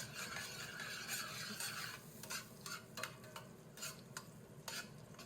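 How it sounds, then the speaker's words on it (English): Butter and garlic sizzle and fry steadily in a pan, a close, continuous crackle with occasional scrapes and stirs of a utensil against the pan, no voices. "I'm really just kind of cooking up my butter and my garlic"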